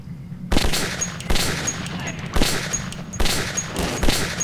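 Gunfire in the post-apocalyptic shooter Metro 2033: several bursts of close, sharp shots at irregular intervals over steady game ambience, with no talk.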